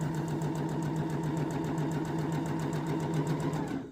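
A sewing machine stitches a shirt seam toward the armpit, running in a steady, fast, even rhythm of mechanical clicks close by, then halting at the very end.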